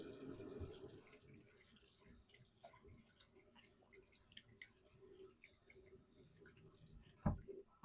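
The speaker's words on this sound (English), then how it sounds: "Some hot water." Hot water runs from a kitchen tap for about a second, a brief broadband gush, followed by quieter clinks and handling sounds and a sharp knock near the end.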